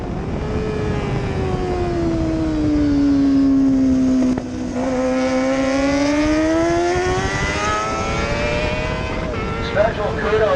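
Racing motorcycles at Grand Bend Motorplex scream past in a loud, sustained engine whine that rises and falls with gear changes, leaders closing on slower riders, with a commentator talking over the bikes throughout.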